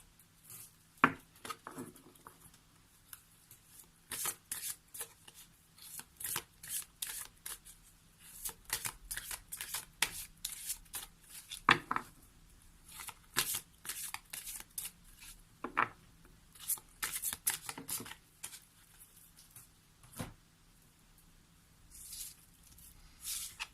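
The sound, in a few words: shuffling oracle cards (Ganesh whispers deck)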